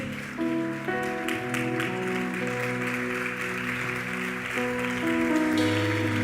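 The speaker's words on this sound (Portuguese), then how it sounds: "Pode sentar se aplaudindo ao Senhor." A church congregation claps steadily as people sit down, with sustained keyboard chords playing beneath the applause throughout.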